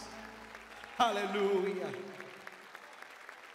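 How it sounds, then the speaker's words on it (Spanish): A church congregation at a Sunday service breaks into applause after a shout of praise, the clapping swelling briefly and then fading into scattered claps while a voice speaks over it. "Aplaudimos la misericordia del Padre Eterno una vez más."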